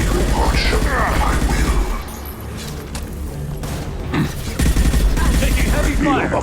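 Heavy gunfire and mechanical clatter in a Mass Effect 2 firefight, dense loud bursts opening and closing the stretch with a quieter lull between, voices mixed in.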